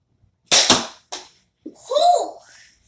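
Nerf toy pistol fires a ball: two sharp close pops in quick succession, then a shorter third burst, followed by an excited voice reacting.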